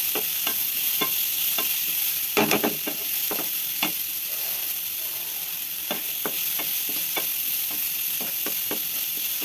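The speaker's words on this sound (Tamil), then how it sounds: "கேரட்டு பீட்ரூட் இப்போ நல்லா வதங்கட்டும்" Carrot and beetroot sauté in a pan for a Tamil varagu semia upma, a steady soft sizzle broken by repeated scraping stirs of a spoon against the pan, close and alone without any talk.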